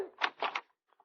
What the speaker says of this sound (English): Go ahead, knock on the door.